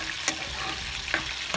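Meat stirred in a cooking pot with a little water added, giving a steady soft simmering hiss broken by a few brief scraping clicks of the spoon, close and moderately quiet.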